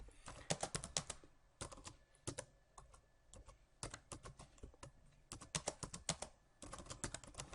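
Someone types on a computer keyboard to fill in login fields, quick bursts of crisp key clicks separated by short pauses, close and fairly quiet.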